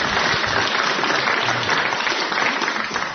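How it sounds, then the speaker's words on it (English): Studio audience at a quiz show applauding a contestant, with a dense, steady burst of clapping that carries on throughout and eases slightly toward the end. "Do give him a clap"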